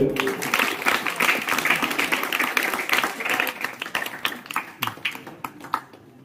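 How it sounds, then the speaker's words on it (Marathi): A crowd at a temple lucky-draw event bursts into loud, dense applause that gradually thins into scattered claps toward the end. "जोरदार टाळ्या होते।"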